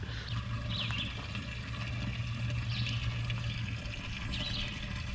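Water running into a 7-gallon container at a campground water spigot, a steady rushing and gurgling fill heard up close with a low hum underneath and no speech.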